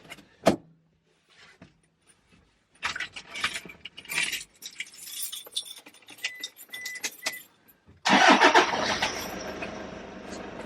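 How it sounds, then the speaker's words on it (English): A car engine cranks and catches at a 4WD fitted with a second battery, starting abruptly after several seconds of key jangling and small clicks, then settling into a loud, steady idle close by. "I'm just going to turn the car on and see what it does"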